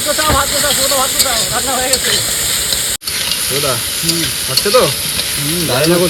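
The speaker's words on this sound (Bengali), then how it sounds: "এবার দিয়ে দেবো লবণ আর সেই সাথে দিয়ে দেবো একটু হলুদ হ্যাঁ হয়ে গেছে না এই কষাবো মশলাটা দেবো" Masala with salt and turmeric sizzles steadily while being stirred in a pan, cooked on a boat in the Sundarbans; the frying hiss runs throughout with scraping stirs, and voices talk over it.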